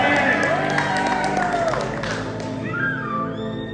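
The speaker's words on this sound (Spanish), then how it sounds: "Un aplauso para Fabi." Crowd applause in a church gathering, dense clapping with some cheering that stays loud and steady before slowly thinning toward the end.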